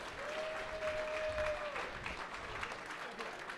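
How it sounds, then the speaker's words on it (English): Audience applause fills a pitch-night event hall at the Calgary Summit, a steady wash of clapping at moderate distance with a whistle-like tone and some voices mixed in. "Here, big round of applause,"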